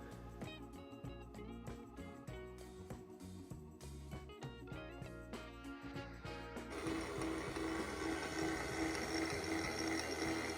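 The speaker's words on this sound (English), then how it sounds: "You see there the other nylon gears spinning, that's all in good shape." Nylon gears of an LGB 2046 G scale rack rail locomotive spin on the bench, a faint rhythmic whirring chatter that grows denser and steadier in the last few seconds.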